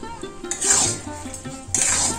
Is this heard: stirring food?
yes